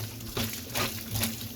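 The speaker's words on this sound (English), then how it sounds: "Now just use hot water, warm water to rinse in a couple of times." Warm tap water runs in a steady soft stream while a fridge is rinsed clean, with a few louder splashing surges over a low continuous wash.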